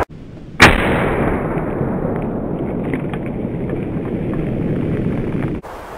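A single loud, sharp blast from a .30-06 rifle fired outdoors, followed by a sustained roar of noise that lingers for several seconds before cutting off abruptly.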